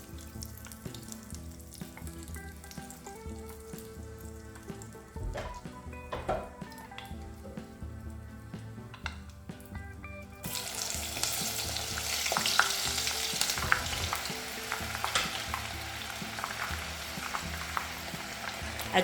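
Onions frying in vegetable oil, a soft stirring and faint sizzle at first, then a sudden loud, bright, steady hiss as they hit the hot oil and keep crackling.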